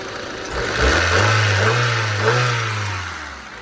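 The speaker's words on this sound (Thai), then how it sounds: "เราฟังอัตราการเร่งนะครับ" A Honda Civic engine revs up close: the note climbs quickly, holds a strong sustained roar for about two seconds, then eases back, with no one speaking.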